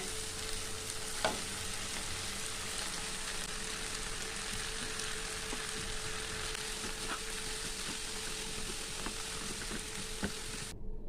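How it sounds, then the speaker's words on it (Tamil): Spinach stirred into cooked-down tomato in a frying pan, a steady close sizzle and crackle with occasional light taps of a spoon, holding at an even level throughout. "கீரையை நல்லா கலந்து விட்டுட்டு மறுபடியும் ஒரு 2 நிமிஷம் மூடி வச்சுருக்காங்க."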